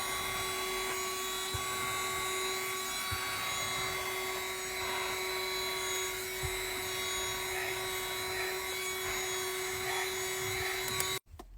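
A vacuum cleaner runs on a dusty carpet with a steady, high whine and strong suction hiss, constant and close for about eleven seconds before cutting off abruptly, with a few faint knocks underneath.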